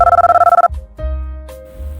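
A telephone rings in a fast pulsing electronic burst, then a sustained tone, loud and close, with no voices.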